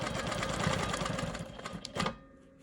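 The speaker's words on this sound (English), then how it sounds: "we're going to go ahead and finish stitching in the ditch on this guy up here" A sewing machine stitches in the ditch on an Ohio Star quilt block, a fast steady mechanical whir with rapid needle clatter that slows and stops after about two seconds.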